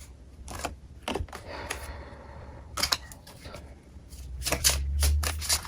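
A deck of tarot cards is shuffled for a reading, with repeated crisp riffling bursts and soft card slaps at an uneven rhythm, close and clear over a faint low hum.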